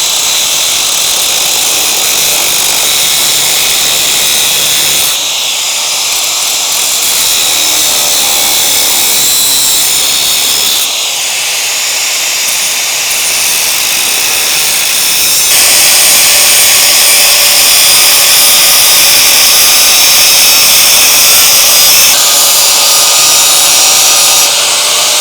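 An angle grinder fitted with a very small cutting wheel cuts through a motorcycle exhaust on a Honda CBR/VFR 800 build, a loud, continuous high-pitched whine and grinding that shifts in tone across several cutting passes, with no talk.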